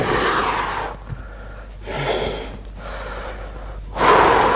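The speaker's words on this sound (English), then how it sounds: "and breathe" Deep gasping breaths follow a handstand conditioning exercise: several heavy inhales and exhales, close and loud, with brief pauses between them and no talking.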